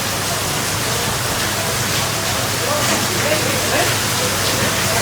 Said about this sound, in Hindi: स्टिल थोड़ी बहुत बारिश अभी भी हो रही है